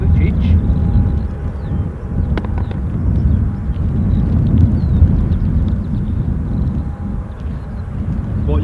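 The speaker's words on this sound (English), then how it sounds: "what you'll get is the Boeing, the Emirates 777 on finals, filmed across 3 segments" An Emirates Boeing 777 airliner on final approach gives a low, continuous rumbling roar mixed with wind buffeting, with a muffled voice faintly over it.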